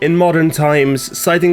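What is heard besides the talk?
None of the usual background noises is heard.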